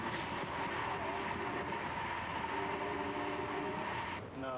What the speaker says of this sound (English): As the train makes its way through the storm